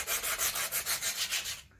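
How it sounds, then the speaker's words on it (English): Engine parts being scuffed down by hand with abrasive, a rhythmic series of about nine close, dry rubbing strokes at an even pace, then stopping. "we'll finish scuffing them down there"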